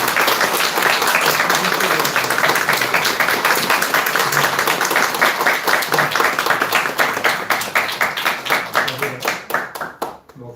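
A church congregation at a Sunday service installing a new senior pastor bursts into loud, sustained applause, dense rapid clapping that carries on for several seconds before thinning out and fading at the end.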